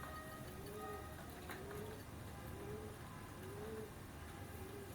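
A young pair of teddy pigeons coos softly: a series of repeated low, rising-falling coos roughly once a second, faint against a constant background hum.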